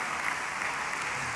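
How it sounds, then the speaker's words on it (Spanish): A church congregation applauds loudly at a Santiago en Llamas 2023 service, a dense, steady wash of clapping that holds evenly throughout without pause. "Le das aplauso fuerte"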